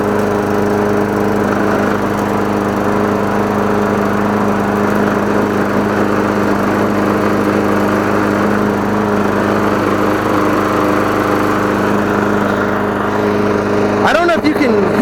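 A lawn mower engine pulled from the trash runs steadily and loudly up close with a heavy, rattling vibration, a constant droning hum throughout, with a brief clatter near the end.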